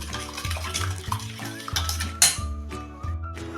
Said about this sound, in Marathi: ही साखर मीठ चांगलं ह्यामध्ये विरघळत जाईल हे आता चांगलं मी फेटून घेते